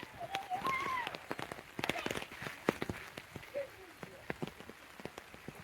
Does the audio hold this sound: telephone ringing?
no